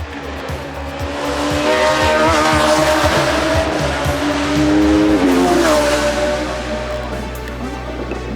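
A BMW 320 race car with a Judd V8 roars past at high revs, engine note sweeping and shifting, tires squealing briefly, loud and close with no talking.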